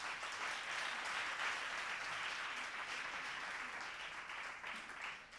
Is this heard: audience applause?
yes